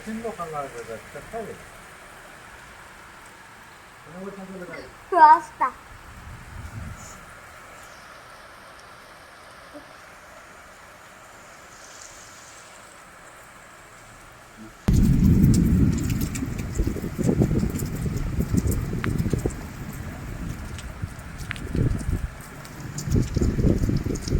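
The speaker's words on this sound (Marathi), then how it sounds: "पण आता काही पाऊसच चालू झाला" Steady rain pours down heavily in the second half, a dense close hiss, after a quieter stretch with a few faint voices and bumps.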